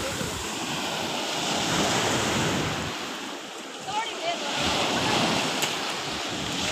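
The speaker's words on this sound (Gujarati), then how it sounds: "મોજા આવે મોજા" Sea waves washing onto the shore in a steady, broadband roar with wind buffeting the microphone, surging and easing over several seconds, recorded up close at the water's edge.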